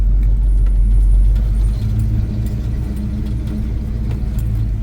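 A Chevy C10 pickup truck driving slowly in first gear, its engine a loud, close, steady low rumble with slight fluctuations as it moves.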